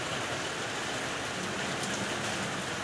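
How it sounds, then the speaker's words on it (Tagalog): Rain falling steadily in a dense, even hiss of drops on surfaces, continuous and fairly close throughout with no voices. "Ulan, mga kabis."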